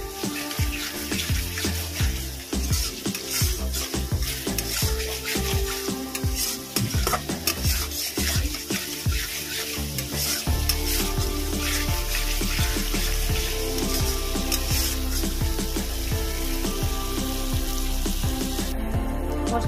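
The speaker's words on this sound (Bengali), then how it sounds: "আমি এর মধ্যে দেবো স্বাদ মতো নুন, চিড়ে রাখা কাঁচা লঙ্কা, আবারও ভালো করে কষিয়ে নেব।" Spice masala with salt and slit green chilies is sautéed in a pan for a Bengali kochu dish, frying sizzle under repeated close scraping and stirring that later settles into a continuous loud hiss, no speech.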